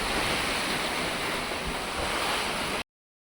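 Strong gusting wind with heavy rain in Odisha roars as a continuous broadband rush buffeting the microphone, steady and loud, then cuts off abruptly.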